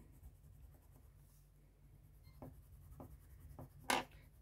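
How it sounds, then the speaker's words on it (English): A colored pencil burnishes paper under heavy pressure while someone draws an oriental poppy. The soft, steady scratchy rubbing is close and quiet, with a few firmer strokes and a sharper scrape near the end. "Now I'm using quite a lot of pressure, and I'm using a technique called burnishing"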